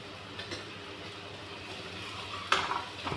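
Garam masala tadka fries quietly in a pan, giving a faint, steady sizzle with a brief louder crackle near the end and no talking.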